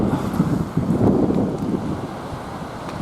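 Strong wind buffets the microphone on a beach on Andøya in northern Norway, a loud, continuous roaring rumble with gusty swells and no voices.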